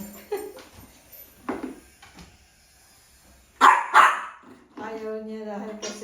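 A dog barks at its toy ball in a couple of sharp, close barks, then a strained whining growl, with people talking around it.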